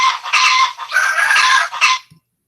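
Several chickens cluck and squawk together as a radio play sound effect, a busy, fairly close burst of fowl calls lasting about two seconds before cutting off.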